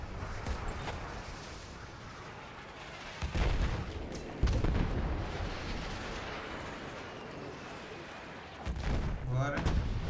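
In Battlefield 1, a desert battle plays out with heavy booms and explosion blasts rumbling over dense gunfire and artillery, several sharp loud hits landing amid continuous chaotic combat noise.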